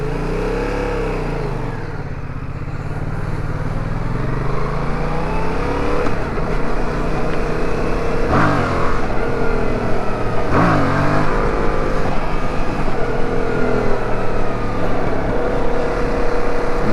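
A Yamaha MT-07 motorcycle engine runs loudly up close, with its pitch sweeping up and down through several revs and settling back to idle; the bike has a check engine light on.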